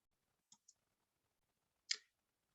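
A computer mouse clicks on a Next button in a software import wizard: two quick, faint clicks close together, then a pause and a single sharper click, in an otherwise silent room.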